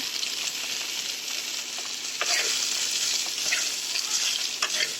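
Potatoes and soybean chunks frying in a pan while being stirred, a loud continuous sizzle close up with occasional scraping stirs and no talking.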